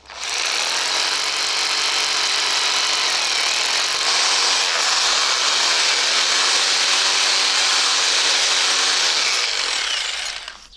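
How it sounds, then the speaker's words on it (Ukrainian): A loud, continuous rotary hammer drill grinds steadily through material for about ten seconds, a harsh, dense roar that stops abruptly at the end. "Робимо отвір перфоратором."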